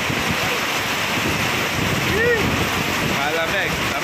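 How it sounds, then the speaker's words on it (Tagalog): Strong wind roars and buffets the microphone continuously during heavy rain, with rushing water underneath and faint voices in the background. "Grabe yung hangin dito sa likod, oh."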